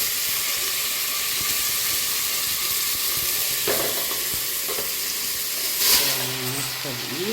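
Pasta frying in hot oil in a pan, a steady loud sizzle throughout with stirring clatter and a brief scrape near the end, someone speaking over it.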